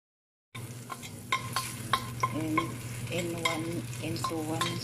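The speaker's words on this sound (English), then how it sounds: "Into 1 spoon cooking oil, saute the white part of onion first until it becomes golden brown." After a brief silence, the white part of an onion sautés in a spoonful of cooking oil with a steady close sizzle, joined by scraping stirs and light clinks of a utensil against the pan.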